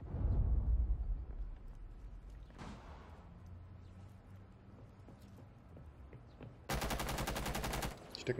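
A loud burst of rapid gunfire in Rainbow Six Siege up front, then quieter rumbling, and a dense rapid-fire volley near the end.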